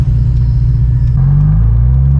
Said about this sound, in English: It's crazy how high it revs.